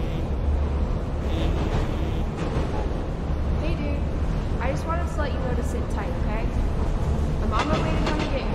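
A subway train in the creepy horror game The Last Light, rumbling and rattling continuously with clanking bursts while someone talks over it.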